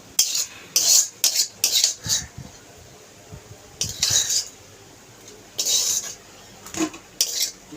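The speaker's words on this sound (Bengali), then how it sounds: "এই কড়াই থেকে থালাতে উঠিয়ে নিলাম" Metal utensil scraping and clinking as fried greens are transferred from a wok to a plate, a series of sharp, close scrapes in short bursts separated by brief pauses.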